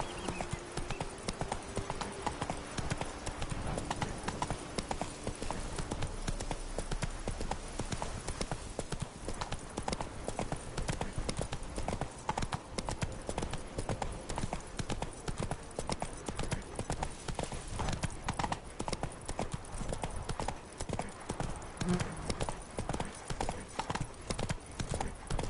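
Roach, the horse in The Witcher 3, gallops with rapid, rhythmic hoofbeats that run without a break and stay loud and close, with faint game ambience underneath.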